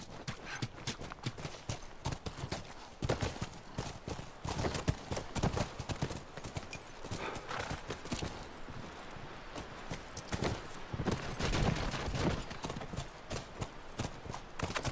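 Horses gallop in The Last of Us, a dense rapid drumming of hooves lasting throughout, moderately loud and continuous with no pauses.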